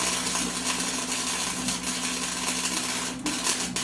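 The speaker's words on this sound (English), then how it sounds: "I'm gonna tack weld that there so it stays level" Tack welding a burner in place on a low-budget portable propane fire pit, a continuous buzzing crackle with a steady hum beneath, close and loud with a brief snap near the end.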